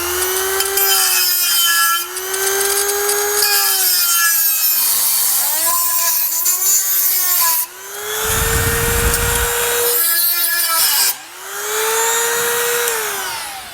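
A power tool cuts metal for a Roadmaster base plate install on a 2022 Chevrolet in several loud, close bursts. Its humming pitch rises and falls, and two brief pauses break the run before it finishes.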